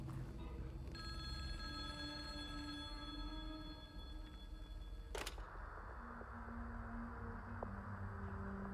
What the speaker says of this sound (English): I guess the phone's ringing.